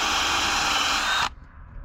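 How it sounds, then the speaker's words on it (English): A power drill whirs loudly and steadily for over a second while spinning a part from a Roper 16T tractor, then cuts off abruptly, leaving quiet shop ambience. "my other method is to put it on a drill and slowly pull as it spins"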